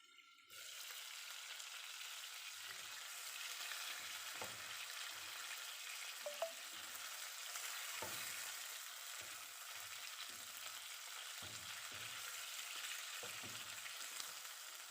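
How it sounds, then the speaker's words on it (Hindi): Chicken karahi sizzles steadily in a covered pan on a low flame, a continuous soft frying hiss with faint stirring clicks, no voices. "अब मैं इसको 5 मिनट के लिए कवर करूँगी और इसको लो फ्लेम पर कुक करूँगी।"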